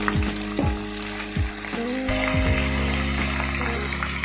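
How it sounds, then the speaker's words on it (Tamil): Chicken pieces for chicken Manchurian deep-fry in hot oil, with a loud, continuous close sizzle and bubbling, and sharp hisses as each piece goes in. "இப்போ ஒவ்வொரு பீஸாக நம்ம சிக்கன் சேர்த்துக்கலாம்"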